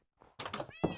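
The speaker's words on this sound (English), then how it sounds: "this is where we keep all of our cats" Cats meow in a Minecraft cat cafe, a few short close calls in quick succession, clear and alone against silence.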